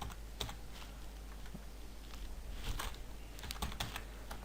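Java code being typed on a computer keyboard, with irregular clicky keystrokes in quick bursts and short pauses, close and fairly soft over a steady background hiss.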